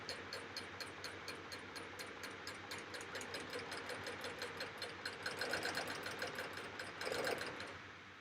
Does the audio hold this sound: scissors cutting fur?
no